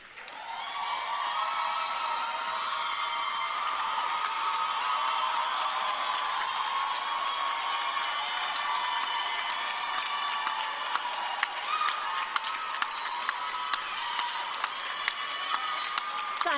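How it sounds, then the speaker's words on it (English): A graduation audience gives its graduates a standing ovation with steady, dense clapping and scattered cheers and whoops, sustained and fairly loud with no talk over it. "So let us stand and support with a round of applause our graduates."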